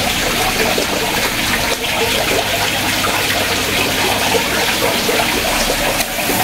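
Water splashing and trickling steadily as a hose waters flowers and rinses dirty glass beside a small fish pond on a front terrace garden, close and continuous with no talking.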